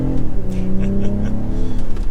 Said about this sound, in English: This being the 40i, you're gonna get that 6-cylinder, and it feels properly quick.